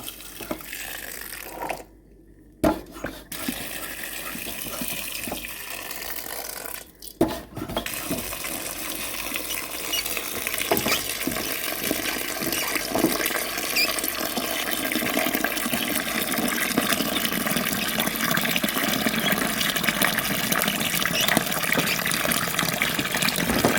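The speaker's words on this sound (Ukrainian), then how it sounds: "І тепер заливаю водою, доведу до кипіння і все." Water pours steadily into a pot holding sugar and lemon balm for compote, a continuous splashing rush that grows fuller and louder as it goes, preceded by a few clinks and knocks.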